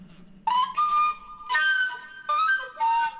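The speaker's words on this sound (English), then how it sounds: "This is the Celtic low D whistle and an Irish tune called The Foggy Dew." A Celtic low D whistle plays the Irish tune The Foggy Dew in clear sustained phrases, a few separate held notes with short breaths between them.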